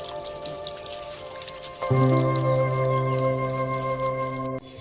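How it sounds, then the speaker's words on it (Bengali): Water poured and sprinkled over potted garden plants, including a flowering shiuli (night-jasmine) plant, in a home garden: soft dripping and splashing that swells into a steadier close pour for a few seconds, then cuts off. "আজকেও প্রতিটা গাছকে আমি স্নান করিয়ে দেবো"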